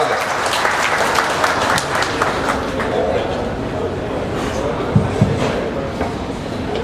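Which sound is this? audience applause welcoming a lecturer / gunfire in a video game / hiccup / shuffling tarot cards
audience applause welcoming a lecturer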